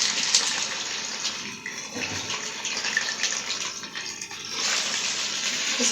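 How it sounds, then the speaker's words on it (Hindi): Cordia myxa fruit sizzles in hot mustard oil, a steady, dense crackling hiss with no pauses, close and fairly loud. "इसको हमने अच्छी तरह फ्राई करना है।"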